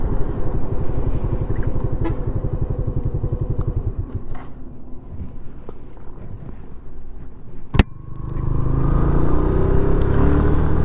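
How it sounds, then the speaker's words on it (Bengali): A Suzuki Gixxer carburettor motorcycle revs hard on the road, its close, loud engine note pulsing rapidly, easing off mid-clip with a sharp click, then rising again into a steady roaring drone. "তো এখন আমি বাইকের স্পিড 100 তুলবো, তোলার পরে দেখবো যে সাউন্ড রেকর্ড কেমন আসে।"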